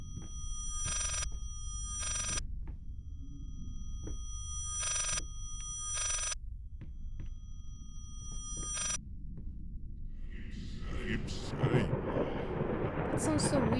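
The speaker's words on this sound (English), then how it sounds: "Oh, it's a phone!" A telephone rings repeatedly in the horror game Layers of Fear, evenly spaced bright rings over a low eerie hum, followed by a swelling noisy rumble at the end while a person talks.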